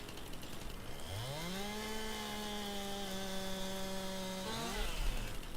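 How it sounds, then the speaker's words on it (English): A chainsaw in Farming Simulator 19 revs up into a steady high whining drone while cutting a tree, holds for several seconds, then drops off; loud and alone with no talking. "pull out the old trusty chainsaw"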